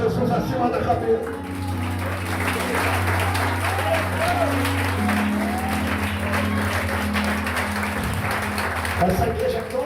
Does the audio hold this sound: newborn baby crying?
no